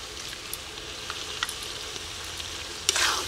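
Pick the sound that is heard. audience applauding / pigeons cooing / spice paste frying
spice paste frying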